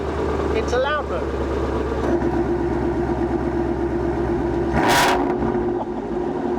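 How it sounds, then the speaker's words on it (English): Ford Mustang GT350 V8 idling with a deep, steady burble, then a single sharp throttle blip in loud exhaust mode before dropping back to idle, heard close up with a voice briefly talking. "And then you can switch it into loud mode."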